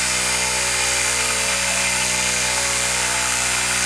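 Motor of a rotary switch rig spinning near 3600 RPM, a steady, loud, unbroken mechanical whine with a dense layer of tones and a low hum, constant throughout with no talk.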